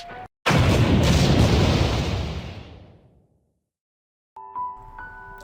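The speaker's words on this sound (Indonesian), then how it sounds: "Tak lama bom itu pun meledak." A time bomb hidden inside a doll detonates in the Blue Archive video game, a sudden loud close blast that rumbles and slowly fades away over a few seconds, followed by silence and then soft tonal game music.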